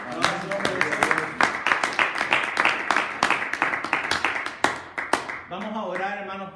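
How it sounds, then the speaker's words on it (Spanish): A church congregation claps for the Lord in quick rhythmic unison, the sharp claps dense and loud for several seconds before giving way to singing or speech near the end. "Denle palmas al Señor en esta hora."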